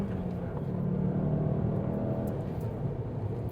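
Volkswagen GTI accelerating, heard from inside the cabin as a low steady engine drone with muffled road noise building briefly, no voices over it.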